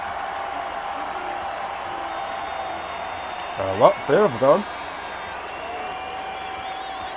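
A crowd applauds and cheers at a marble race, a steady broad wash of clapping that carries through the whole stretch, with a commentator's voice briefly over it.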